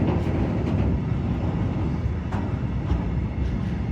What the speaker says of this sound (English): Got another train coming here